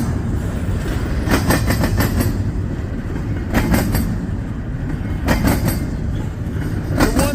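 Train passing on railroad tracks, rhythmic clickety-clack of wheels over rail joints in repeated bursts above a continuous rumble, fairly loud and close, with no speech.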